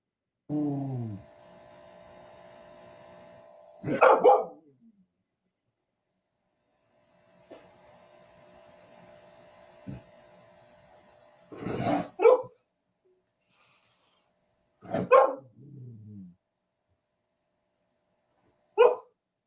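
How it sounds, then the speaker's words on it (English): A pet dog barks indoors at something outside, giving separate bursts of a few sharp barks spread over the stretch, with a steady mains hum between them and no talking. "What is it barking at?"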